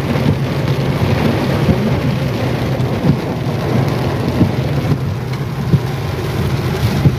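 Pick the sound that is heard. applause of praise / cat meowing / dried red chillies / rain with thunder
rain with thunder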